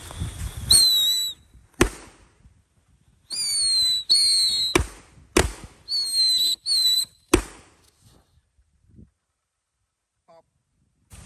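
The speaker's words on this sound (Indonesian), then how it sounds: "ini ada mercon tikus tor di dalam tanah, siap kita nyalakan" Ground firecrackers (mercon tikus) buried in soil and lit, giving a string of sharp bangs and hissing, whistling bursts. Loud reports come in irregular clusters, followed by quiet.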